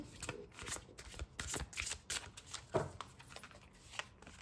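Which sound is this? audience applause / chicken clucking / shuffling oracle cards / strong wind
shuffling oracle cards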